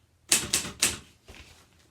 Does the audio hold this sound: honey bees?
no